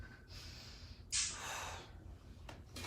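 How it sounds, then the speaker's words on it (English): Heavy, effortful breathing during an isometric plank hold in a live workout session, with a sharp loud exhale or gasp in the middle and softer breaths around it, close to the listener. "Lots of breathing."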